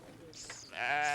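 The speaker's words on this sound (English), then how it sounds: "Today, Gorjo must sell a sheep here in Cross in order to buy the millet" A sheep bleats at a Wodaabe nomads' market in the town of Cross, a short, fairly loud wavering call that rises and holds at the end over faint background market noise.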